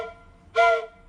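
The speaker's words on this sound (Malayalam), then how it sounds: "ഇതിനെ ട്രെയിൻ വിസിൽ നിന്ന് തന്നെ വിളിക്കാം" A homemade train whistle made from PVC pipe gives one short, loud, chord-like hoot of about a quarter second, rising suddenly out of quiet background and stopping just as abruptly.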